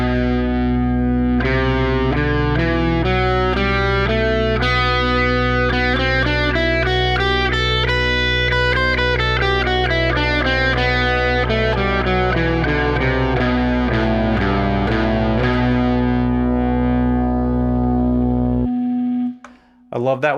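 Distorted electric guitar running up and down the B Phrygian mode note by note, a steady, loud line with effects and sustain, ending abruptly near the close.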